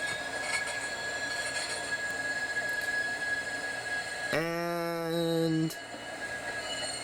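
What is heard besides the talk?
MAX light rail train running through the turnaround tracks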